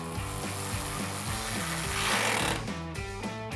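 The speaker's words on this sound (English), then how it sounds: "we'll come back in and tighten this down using a 10mm socket." A lock nut is tightened with a ratchet and 10mm socket on a side step bar bracket of a 2021-2026 Ford Bronco, a rapid continuous mechanical clicking and whirring, loud and close with no speech.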